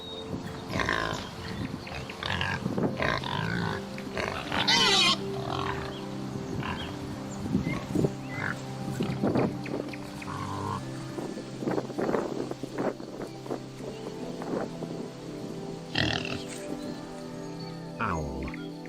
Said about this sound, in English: A pig.